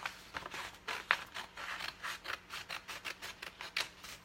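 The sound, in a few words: cutting vinyl letters apart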